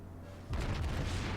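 A naval gun salvo from the cruiser Pensacola in World of Warships erupts after a brief quiet, with a heavy booming blast whose rumbling roar sustains to the end.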